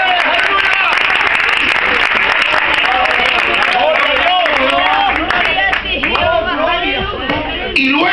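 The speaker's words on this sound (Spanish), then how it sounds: "Un aplauso fuerte a ese Dios de poder." Church congregation at a Thursday night service clapping loudly and continuously, with a dense burst of applause mixed with crowd chatter and cheering voices.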